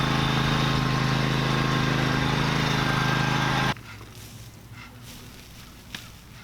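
A lawnmower engine runs loud and steady close by with a constant drone, then cuts off abruptly, leaving quiet outdoor ambience with faint rustles and a small knock in a garden being planted with pumpkins, watermelons and squash.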